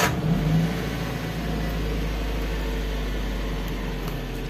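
An APV van engine runs steadily with a low, constant hum and rumble, close by and unbroken throughout, with no voices.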